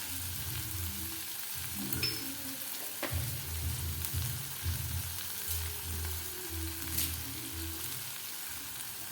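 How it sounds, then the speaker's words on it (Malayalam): Chopped green chillies, shallots and garlic frying in a pan give a steady close sizzle and crackle, with a few stirring scrapes and no talk over it. "പതിനഞ്ച് പച്ചമുളക് ചോപ്പ് ചെയ്തതാണ് ഇതിലേക്ക് നമുക്ക് കാൽ കപ്പ് ചുവന്നുള്ളി ചേർത്ത് കൊടുക്കാം രണ്ടല്ലി വെളുത്തുള്ളി ചേർത്ത് കൊടുക്കുക"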